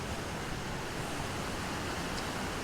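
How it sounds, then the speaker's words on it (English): Steady broadband rush of a waterfall and river on Arran, Scotland, a constant close wash of water with no breaks and no voices. "all we're doing is following this waterfall up, or this river, whatever it is"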